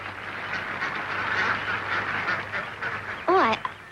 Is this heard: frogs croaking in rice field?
no